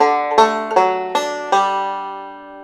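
Scruggs-style banjo roll through D, four bright plucked notes ringing out one after another, clear and close, ending in a fading sustain.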